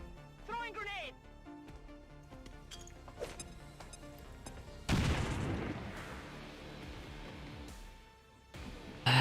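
A video game battle rolls with bursts of gunfire and a loud grenade blast midway, followed by a long rumbling tail, while a voice talks over the action.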